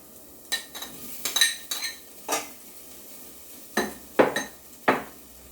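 Chicken chunks going into a pan with julienned garlic, brief sizzling bursts and clinking of a utensil stirring against the pan, a series of sharp separate scrapes and taps over a low steady background, no talking.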